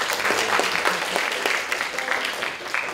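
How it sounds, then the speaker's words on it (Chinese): Applause from the audience at a big data and biomedical informatics conference, a dense, steady clapping that stays loud throughout. "我们把这个珍贵的时间交给我们的 Professor Bibi 大家鼓励掌声鼓励一下。"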